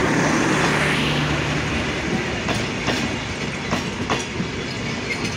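The Simanto Express intercity train, locomotive 6604 hauling empty coaches, rumbles past loud and close with a steady roar and repeated clickety-clack wheel beats from rail joints.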